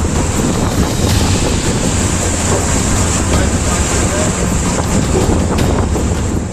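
Strong sea waves crashing against a small boat at sea, a loud continuous roar of surf and rushing water mixed with heavy wind buffeting the microphone.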